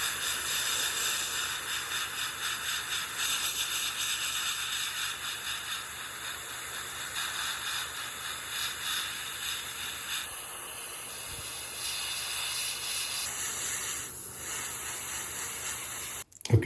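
An airbrush sprays Tamiya Deck Tan paint onto a 1/200 scale model of the battleship IJN Mikasa, a continuous close, even hiss lasting throughout before cutting off abruptly at the end.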